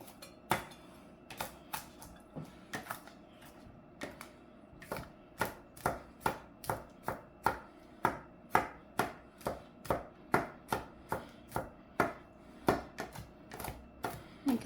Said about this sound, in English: Coarse chop on this.